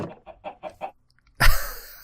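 A Minecraft chicken from the Sky Factory 3 modpack gives five short, evenly spaced clucks, then a louder, brighter squawk-like burst that trails off; no talking.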